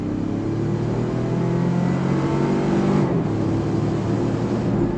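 A 2025 Toyota 4Runner Trailhunter hybrid with an 8-speed automatic in sport mode pulls hard on throttle, its engine drone rising steadily and filling the cabin, loud and continuous with a brief shift dip midway.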